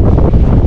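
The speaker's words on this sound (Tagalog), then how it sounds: "Ay, kalakas ng hangin." Strong wind buffets the microphone outdoors on a coastal mud crab and eel trapping spot, a loud, continuous low roar with no voices over it.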